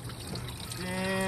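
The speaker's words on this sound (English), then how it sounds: "Rusty water everywhere." Rusty coolant water from a muscle car fitted with a 160-degree thermostat and antifreeze pours in a steady close splashing stream, and a tonal hum rises toward the end.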